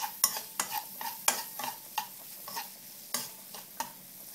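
Farfalle pasta with hotdogs and celery, seasoned with nutmeg, is stirred in a pan: rhythmic scraping strokes of a utensil every half second or so over a light sizzle, close and clear.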